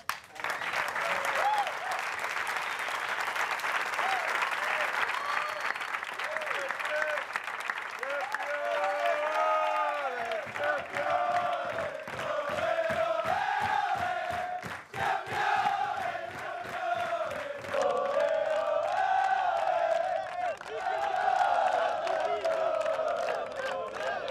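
A large crowd applauds and cheers loudly and continuously at a Manchester City Premier League title celebration, with whoops and shouts rising over the sustained clapping.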